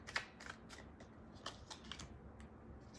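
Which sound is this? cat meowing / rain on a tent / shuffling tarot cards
shuffling tarot cards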